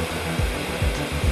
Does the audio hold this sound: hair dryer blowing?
yes